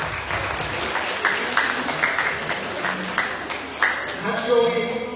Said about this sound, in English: give her a round of applause, welcoming her to the masjid